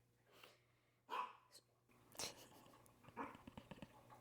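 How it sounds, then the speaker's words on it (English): A pet dog indoors gives a few sharp barks and yips, spaced irregularly over a few seconds, close by with a low steady hum underneath. "Sorry, my dog, Eden."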